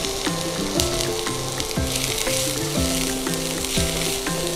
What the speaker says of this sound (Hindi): पहले इनको अच्छे से भून लेते हैं।